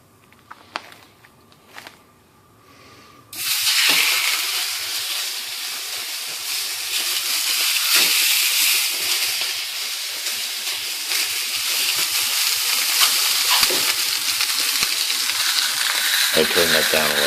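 Beef shanks browning in olive oil in a hot pan: after a few quiet seconds, a loud, steady sizzle bursts in and holds, crackling and spitting continuously to the end.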